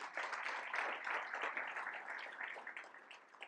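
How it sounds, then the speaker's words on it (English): A room full of people applauding the lunch sponsors at a city's state-of-the-city event, dense clapping that stays steady and then tapers off slightly near the end. "Maybe give them a round of applause for the food."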